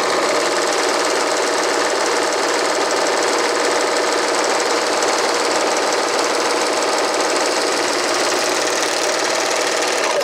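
A Janome AirThread 2000D serger stitches and trims along a fabric edge, giving a steady, close mechanical whir and rapid buzzing that runs without pause for about ten seconds, with no talking.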